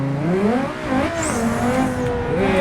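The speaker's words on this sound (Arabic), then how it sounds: "تعالوا نشوف الانجن اهو. واو، صوتها عالي." Car engine in the Car Jump Arena racing game revving loudly, pitch rising and falling in sweeping waves across a couple of seconds, close and alone.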